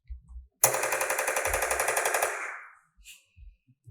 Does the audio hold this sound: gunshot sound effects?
yes